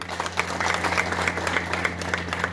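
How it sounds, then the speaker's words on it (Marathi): Crowd clapping at a police station inauguration, a steady round of many hands with distinct sharp claps standing out, over a low constant hum. "टाळ्या वाजवायच्या"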